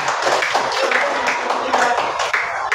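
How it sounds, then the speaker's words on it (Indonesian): Audience applause for group 3 in a classroom, a steady stretch of close, brisk clapping from a small group that holds at an even level throughout. "sekarang kata orang beri aplaus buat kelompok berapa? 3."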